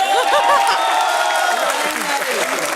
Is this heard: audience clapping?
yes